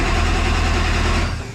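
Truck engine running loud and close with a steady low rumble while a twin-engine shifter setup is worked through the gears, tailing off slightly at the end.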